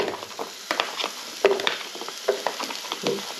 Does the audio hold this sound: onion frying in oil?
yes